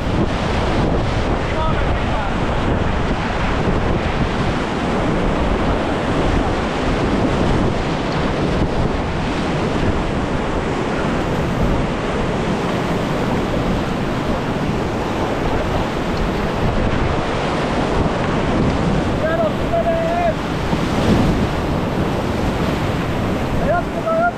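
Rushing river rapids roar continuously while a group of kayakers paddles downstream, a dense broadband wash of water heavy with wind buffeting on the microphone throughout.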